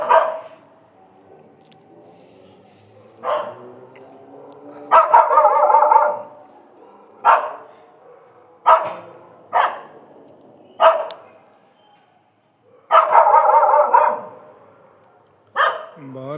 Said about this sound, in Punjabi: ਮੇਰਾ ਕੁੱਤਾ ਭੌਂਕਣ ਡਿਆ ਬਾਹਰ